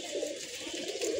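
Pigeons coo on a rooftop loft, a soft, low, rolling warble repeating twice in quick succession, close and fairly quiet.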